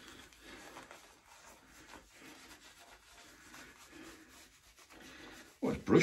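A shaving brush swirls shaving soap made with beef tallow into a lather on the face, producing a soft, continuous rubbing and bristly scrubbing close by, ending with a sudden louder knock.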